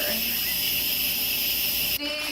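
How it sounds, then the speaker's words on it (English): An Instant Pot pressure cooker vents steam through a manual release while chicken fettuccine Alfredo cooks, a loud continuous rushing hiss that holds steady, then cuts off abruptly near the end, leaving a quieter residual tone. "And this is called a manual release, where we're letting off steam."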